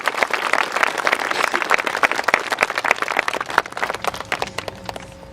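A graduation commencement audience claps loudly and steadily for outgoing and incoming student council presidents, a dense crackle of many hands that thins toward the end.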